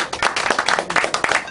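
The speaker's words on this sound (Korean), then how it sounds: "박수로 맞아주십시오" An audience at a Korean national-unity lecture event claps to welcome the next speaker, a crowd of distinct, uneven hand claps ringing out at moderate volume with no talking over it.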